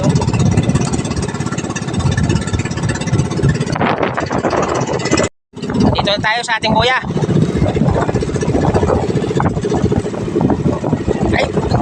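A small motorboat engine drones steadily and loudly in strong wind, struggling against it, with wind buffeting and a person speaking briefly over it partway through.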